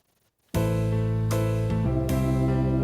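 Keyboard accompaniment on the soft and easy rhythm style starts abruptly after a short silence, a steady sustained chordal pattern with chord changes roughly every second, loud and continuous.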